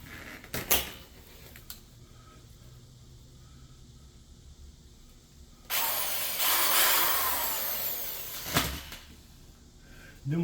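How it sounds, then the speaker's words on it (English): A short burst of drilling a pilot hole, loud and close, lasting a few seconds after a quiet stretch with a couple of knocks. "And drill us a pilot hole."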